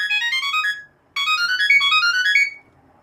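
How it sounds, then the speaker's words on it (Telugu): A Samsung Galaxy SmartTag plays a bright, melodic chirping ringtone in two bursts separated by a short pause, loud and close with nothing else around it. "ring the tag,"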